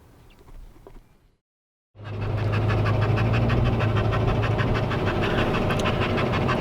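A dog pants rapidly and steadily outdoors in the heat after coming out of air conditioning, the quick breathy rhythm loud and close, following a short stretch of quieter ambient noise and a brief silence.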